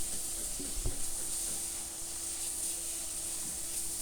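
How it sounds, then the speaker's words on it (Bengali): Carrot halwa being stirred with fried raisins and nuts, a gentle steady sizzle with a few scraping stirs and soft knocks early on. "তারপরে ভালো করে নেড়েচেড়ে মিশিয়ে নিচ্ছি"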